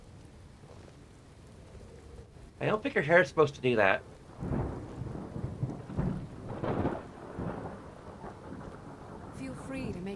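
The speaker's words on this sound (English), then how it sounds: "It's raining." Rain falls steadily with low rolling thunder in a Skyrim game world, a broad wash of noise under a character's spoken line and another voice talking.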